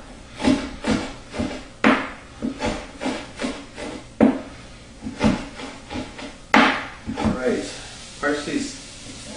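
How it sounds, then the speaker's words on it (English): Knife chopping parsley on a wooden board, a close series of rhythmic wooden knocks in bursts with brief pauses between, a voice speaking briefly at the start. "We're going to chop some parsley now."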